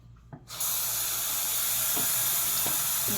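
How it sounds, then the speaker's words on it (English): Tap water runs steadily into a kitchen sink as vegetables are rinsed for a meal of roasted broccoli, cauliflower and potatoes, starting abruptly after a short quiet moment and continuing as a loud, even hiss with faint knocks underneath. "Go ahead and rinse these off."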